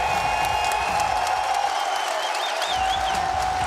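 A crowd at an MLG Columbus 2016 esports match roars continuously at a distance, a broad wash of cheering with occasional whistles and whoops rising above it.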